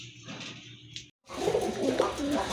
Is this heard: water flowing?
no